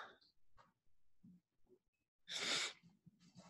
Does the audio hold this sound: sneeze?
yes